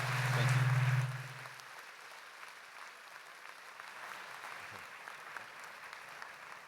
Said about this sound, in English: Let's get a round of applause for our speakers.